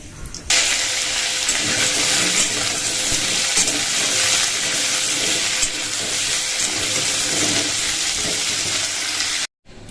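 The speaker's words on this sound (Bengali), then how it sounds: "এই তেলের মধ্যে শুকনো লঙ্কা তেজপাতা জিরা ফোড়ন দেবো" Loud, steady sizzling of hot oil as dried red chillies, bay leaves and cumin seeds temper in it, crackling without pause for nearly ten seconds, cutting out abruptly just before the end.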